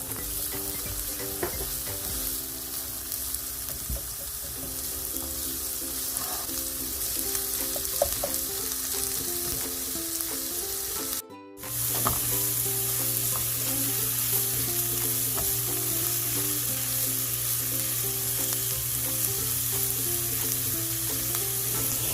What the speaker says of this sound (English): Into my olive oil, I'm gonna add some onions. I'm gonna cook the onions until they're translucent.